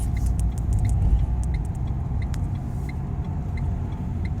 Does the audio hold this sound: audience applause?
no